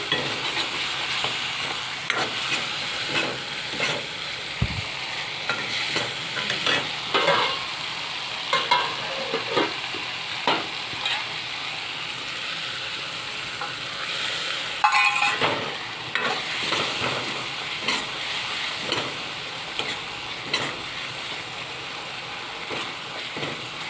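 Ground spice paste frying in an oiled pan for a pork dish, with a constant sizzle broken by repeated scraping strokes of a spatula and a louder clatter partway through.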